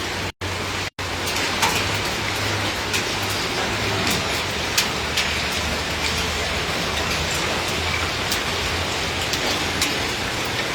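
Hail in Arlington patters steadily in a dense, hissing wash, with scattered sharper ticks of pellets striking hard surfaces nearby.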